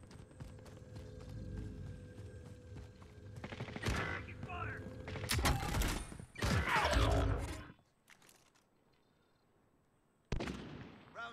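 Rapid bursts of gunfire in the Warzone video game on Rebirth Island come in clustered volleys, loud and close, then cut to near silence before a final burst, with voices talking in between.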